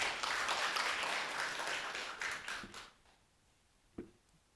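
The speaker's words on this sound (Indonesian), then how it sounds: "Tepuk tangan." Applause from an audience at a university moot court competition final, broad and fairly quiet, fading out after about three seconds, followed by a single soft knock.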